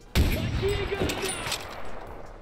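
A single loud M60 gunshot in a S.T.A.L.K.E.R. video game bursts out with a short echoing tail, followed by someone talking over the fading reverberation.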